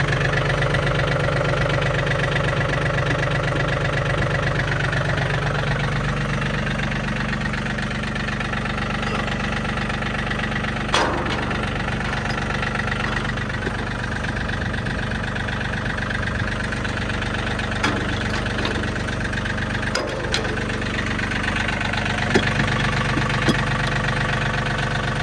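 A tractor engine idles steadily on a ranch during a quick stop before thistle cutting, a continuous low rumble with a faint knocking beat, close and loud throughout with occasional sharp clanks.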